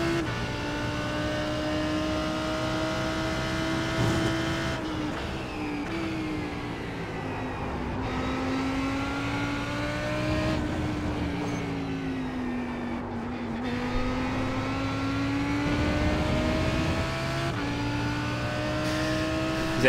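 Lamborghini race car in an IMSA racing video game, its engine droning steadily and loud throughout, pitch rising and falling through repeated gear shifts and revs with no talking.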